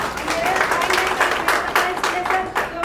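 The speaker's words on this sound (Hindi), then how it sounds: "दीदी के लिए जोरदार ताली" A gathering gives loud applause for a woman, with dense, energetic clapping from a group filling the short moment and voices mixed in underneath.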